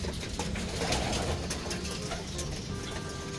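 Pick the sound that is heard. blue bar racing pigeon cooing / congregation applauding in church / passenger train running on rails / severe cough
blue bar racing pigeon cooing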